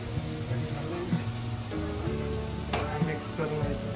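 Soft sizzling and stirring sound from coconut masala paste being mixed into vaal bhaji in a pan, with a steady fry hiss and faint scraping, no talk.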